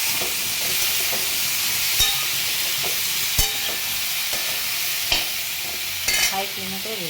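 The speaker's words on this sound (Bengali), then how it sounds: "হাই ফ্লেমে করে ভেজে নিলাম।" Sprouted chickpeas frying in a pan on high flame give a steady, loud hiss and sizzle throughout, broken by a few brief clicks and knocks of stirring.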